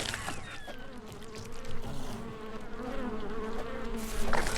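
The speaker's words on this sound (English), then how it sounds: "Dead bug buzzing." Insects buzz in ARK: Survival Ascended, a steady, fairly loud drone running the whole time over a low rumble of the game world.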